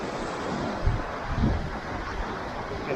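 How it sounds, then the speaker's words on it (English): Steady broadband wind roar buffeting the microphone on a beach at Sidmouth, East Devon, with a couple of stronger gusts; no voices. "Quite windy today"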